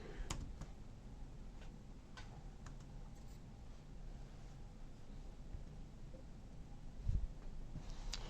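Soft, steady typing on the keyboard of a Lenovo Chromebook Flex 5 13-inch laptop, quiet irregular key clicks under a faint background hiss, with one slightly louder bump near the end.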